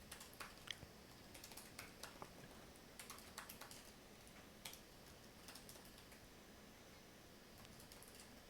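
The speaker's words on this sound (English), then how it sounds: "Meanwhile, I'll type this down." Fingers tap a computer keyboard in a quiet room, producing irregular bursts of soft clicks and keystrokes spaced by short pauses, close and faint.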